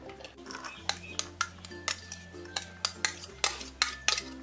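Finely chopped vegetables for a quick bread pizza are tipped and scraped into a bowl, a run of about a dozen sharp clinks and taps at a steady rhythm, close and crisp over a low background hum.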